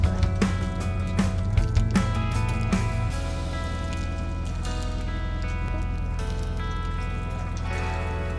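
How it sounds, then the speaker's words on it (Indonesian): Steady rain falls outside a fishing boat before sunrise, a dense, continuous patter with scattered drips over a constant low engine hum, with a few louder knocks early on. "sebelum sunrise ternyata di luar itu hujan lagi nih friends"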